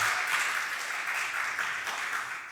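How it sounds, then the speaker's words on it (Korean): Steady, full congregation applause during an afternoon Korean church service, honouring God and the choir, a dense even wash of many hands clapping at moderate volume throughout. "우리 수고하신 우리 찬양대께도 우리 감사의 박수를 전하겠습니다"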